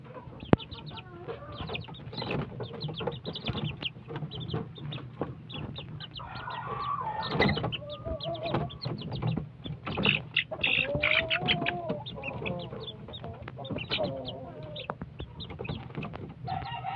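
Peruvian chickens and young chicks cluck and peep continuously, a busy flock close by with overlapping calls and occasional sharper squawks throughout.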